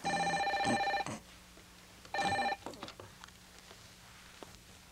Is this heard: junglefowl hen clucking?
no